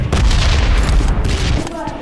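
Gunfire in the battle royale game PUBG Lite, heavy booming shots that blend into a dense, continuous roar of loud blasts, with some voice sound mixed underneath.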